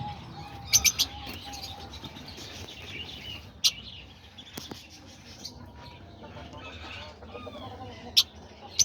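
Fischer's lovebirds and doves in an aviary give scattered sharp chirps and tweets, with soft cooing and bird calls running beneath at moderate distance.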